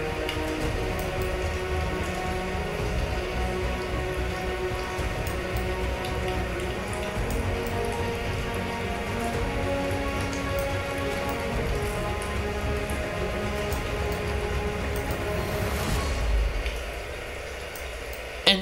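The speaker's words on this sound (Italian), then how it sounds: "Mi fa bagnare i vestiti questa pioggia." Steady rain falls on a wet street outside a restaurant, a dense continuous patter with a low rumble that holds evenly and then drops away near the end.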